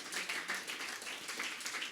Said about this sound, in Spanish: Hermano, dé ese aplauso fuerte al Señor en esta mañana.